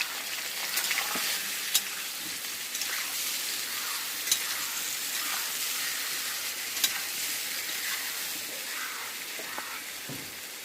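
Chicken with turmeric stirred in a hot pan, a steady bright sizzle with occasional scraping clinks of the spoon throughout, close and continuous with no talking.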